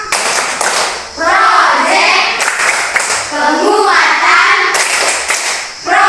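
A classroom of children performs the Tepuk P5 clapping chant, loud unison hand claps in rhythmic bursts alternating with group chanting voices, close and energetic.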